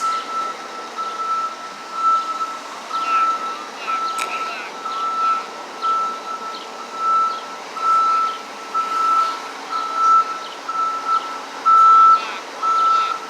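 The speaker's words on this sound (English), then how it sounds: "Maybe that truck's coming to get the Jersey barriers now." A truck reverses along a street beside construction work, its backup alarm beeping in a steady repeating rhythm over a low engine rumble, moderately close, with faint street noise around it.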